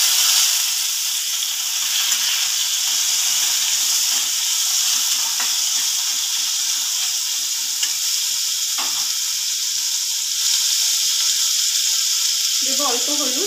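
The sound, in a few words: taro stolons frying in pan with black cumin and green chillies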